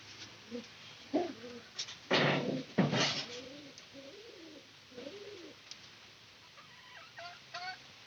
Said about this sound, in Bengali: পায়রা যে ডাক দিব